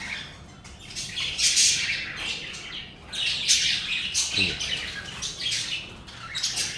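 Pet birds, a mother with her baby, squawk and chirp in a steady cluster of calls, with a few louder bursts rising over a continuous background of chatter nearby.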